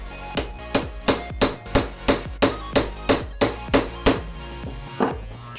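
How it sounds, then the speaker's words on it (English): Eleven evenly spaced, ringing metal hammer blows strike close by as a ring is hammered onto a Nissan 240SX rear CV axle, each with a short metallic resonance, followed by a quieter final tap. "Squeeze it together before you try to hammer it down."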